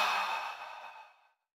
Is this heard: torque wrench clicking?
no